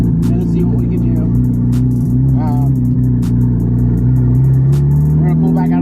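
A 535 hp Datsun with a turbocharged RB25DET engine under test drive, its steady interior drone and rumble holding throughout with slight rises in revs, while someone talks over it.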